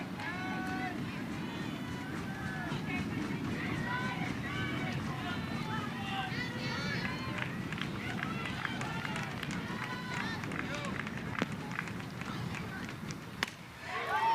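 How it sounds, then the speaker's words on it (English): Baseball fans in a Chicago ballpark stomp their feet in a steady, rumbling two-strike stampede during a tense late-game moment, a dense crowd roar that carries on throughout with a voice audible over it. "you'll hear the fans stomp their feet for the 2-strike stampede"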